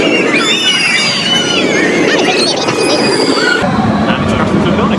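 A train runs on rails, recorded from inside a carriage: loud, continuous rumbling with high metallic squeals throughout and an abrupt shift in the rolling noise near the end.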